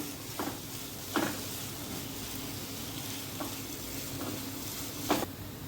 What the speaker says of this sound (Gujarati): તેને પણ થોડીક વાર માટે મિક્સ કરી લઈશું